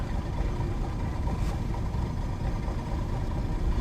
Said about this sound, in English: This engine's so cold.